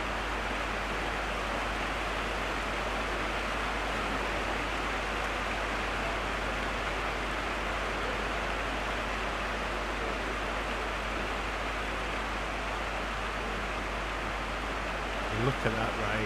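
Heavy rain falls during an under-21 football match between Wolves and West Ham, a steady broadband hiss that lasts the whole stretch, with a faint voice underneath.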